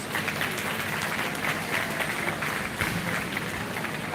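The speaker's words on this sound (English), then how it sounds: "Let's give our junior finalists a big round of applause." Spectators in a livestock show ring clap for the junior finalists at a 4-H and FFA swine show at the Lancaster County fair, with steady crowd applause throughout.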